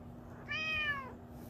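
A cat gives a single clear, close meow lasting about half a second against a quiet room, rising and then falling in pitch.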